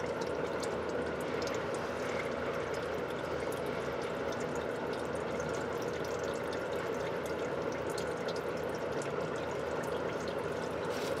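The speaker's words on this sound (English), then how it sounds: "Go ahead and let all that residual drip out." Residual oil from a GM 3.3 V6 engine drains during an oil change, making a steady, continuous trickling and dripping wash that stays soft and even throughout, with no talking.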